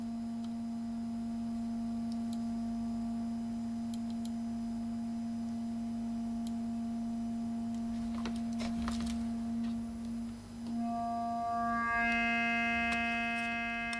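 A steady ST Modular Oberhausen synthesizer tone holds throughout with a strong fundamental and bright harmonics, slightly distorted, joined near the end by added higher partials and brief clicky bursts from adjustment.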